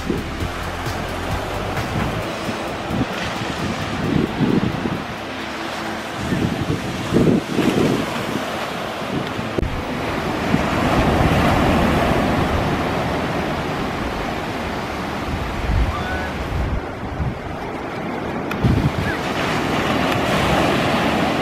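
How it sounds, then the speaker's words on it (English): Ocean surf rolls onto a beach on the Outer Banks. Waves wash in and recede in a continuous roar while gusty wind buffets the microphone in loud surges. "It's the beach."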